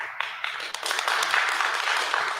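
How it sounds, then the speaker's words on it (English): A studio audience claps during a televised debate, a steady broadband patter of many hands that swells slightly and holds loud throughout, with faint voices underneath. "They're clapping?"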